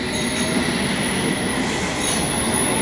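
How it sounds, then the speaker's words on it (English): London Underground Metropolitan line train running on the Chalfont to Latimer stretch toward Chesham, a loud, steady close-up rumble of wheels on rails with a high squealing edge, continuous throughout with no talk. "So that goes a Metropolitan line train to Chesham"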